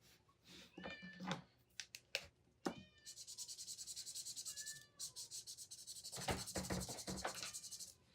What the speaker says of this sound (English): My cat is super dramatic. You would think that it's tantamount to torture that she's locked out of the room